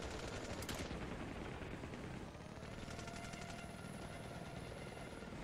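A helicopter in the Ravenfield video game gives a constant rotor and engine drone, with bursts of gunfire and a sharp sweeping whoosh early on, all dense and loud with no talking.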